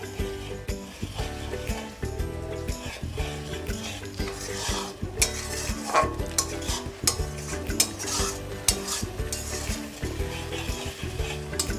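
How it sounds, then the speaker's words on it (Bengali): A spice paste, loosened with a little water, is sautéed and stirred in a pan: repeated metallic scrapes and clinks of the spoon over a soft sizzle, with a steady tonal musical bed underneath. "এবারেও আমি নাড়াচাড়া করে মশলাগুলোকে বেশ ভালো করে কষিয়ে নেব।"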